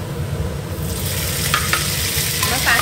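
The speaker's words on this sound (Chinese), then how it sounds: "把小辣椒下锅" Small chili peppers sizzle steadily as they are stir-fried in a hot wok for spicy snake beans, with a loud, continuous frying hiss broken by a few sharp scraping strokes of the spatula.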